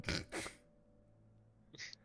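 A single sharp sneeze bursts out loud and close, followed by a brief second breathy burst, then quiet room tone.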